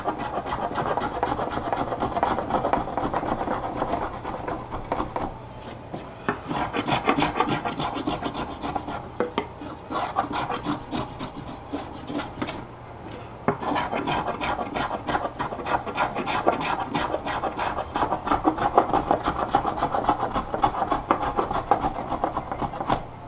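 Wood being hand carved with sharp carving tools: continuous close rasping and scraping strokes in a steady rhythm, with brief pauses between passes and no talk.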